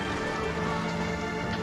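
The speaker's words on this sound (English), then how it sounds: "Oh crap, the rain's making it slick." Steady rain falling in a dark city street, a dense even patter and hiss that stays constant throughout at moderate loudness, with no voices.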